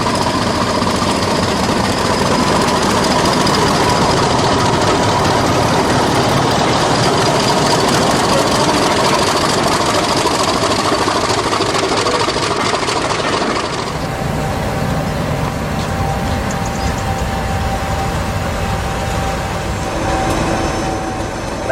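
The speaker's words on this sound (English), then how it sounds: "This is a truly terrific sounding engine." A Class 50 diesel locomotive engine idles loudly and steadily with a deep throbbing rumble, its tone shifting and easing slightly toward the end.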